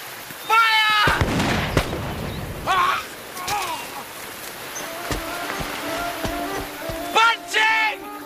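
Ship's cannon fire in a Horatio Hornblower naval drama, several sharp booming blasts spread across the scene with shouted voices between them and a dense rumbling burst near the start.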